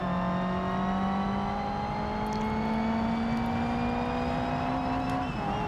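A car engine in the BeamNG driving game holds a steady, rising drone as it drives the Deal's Gap track, then shifts briefly near the end. It stays loud and continuous with no talking.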